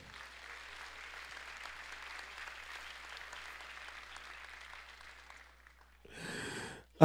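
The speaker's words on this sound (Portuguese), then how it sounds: "Agora você pode dar outra salva de palmas." A church congregation claps in a long, even patter that sounds fairly distant and soft, trails off after about five seconds, and is followed by a short burst of louder noise near the end.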